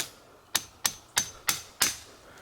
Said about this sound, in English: Okay, I'm back with a hammer.